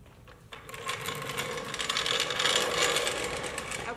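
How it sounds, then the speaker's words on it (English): A floor jack being lowered and pulled out from under a 2022 Honda Grom motorcycle, giving a fast rattling, ratcheting mechanical whir that starts after a brief pause and continues steadily close by. "we can go ahead and remove our floor jack"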